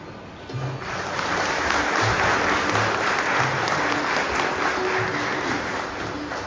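An audience at the Devrshi Narad journalism award ceremony in Konkan claps in sustained, dense applause that swells in and holds steady, loud and close, with no talk.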